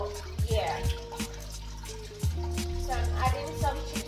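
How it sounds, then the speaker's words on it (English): Low sodium chicken stock poured into a pot of soup, a liquid splashing and trickling sound in bursts, with overlapping tonal sounds that may be a voice or background noise. "So I'm adding some chicken stock."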